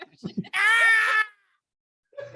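A person imitates the screaming goats from the Thor films with one loud, drawn-out bleating scream, set between short bits of speech.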